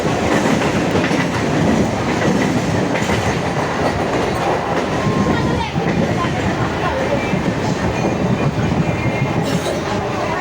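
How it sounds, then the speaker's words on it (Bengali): The Bandel local, a down train, passes on railway tracks near Naihati with a loud, continuous roar and rhythmic wheel clatter, while voices talk faintly beneath. "আর ডাউনে এই ট্রেনটা হচ্ছে ব্যান্ডেল রেড লোকাল।"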